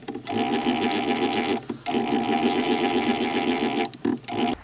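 A bead roller is cranked along metal tubing, giving a steady buzzing, grinding mechanical drone in long runs broken by short pauses, close and fairly loud with no talking.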